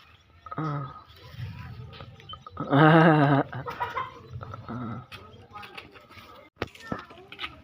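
A chicken clucks nearby in short bursts while someone speaks and other voices talk over it, with one loud squawk-like cry in the middle.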